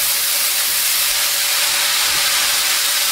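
Minced meat sizzles and hisses steadily in a hot pan as it is stirred for lasagne, a loud, continuous broadband frying hiss with no talk.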